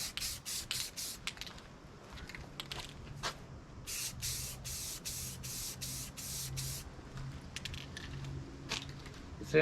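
An FMS Ranger model airplane is spray painted white, with a series of short, close aerosol bursts in quick succession, then a pause, then a longer run of evenly spaced sprays, over a low background hum.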